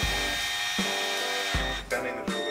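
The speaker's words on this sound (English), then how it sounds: "A Black and Decker fucking home improvement drill." A Black and Decker home improvement drill runs in short bursts on a Harley carburetor, its whine cutting in and out loud and close, with no speech.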